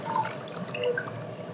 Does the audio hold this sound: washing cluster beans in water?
yes